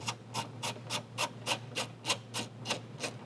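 A 3mm Allen key turns screws into the intake air box of an MK8 Golf R during a Unitronic carbon intake install, giving a steady run of about eleven evenly spaced ratcheting rasps over a low hum, close up.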